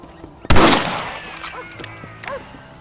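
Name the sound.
rifle shots in video game Red Dead Redemption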